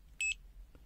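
A Habotest HT121 pen-type multimeter set to continuity mode gives a short, clear electronic beep, a brief high tone standing alone over faint background hum.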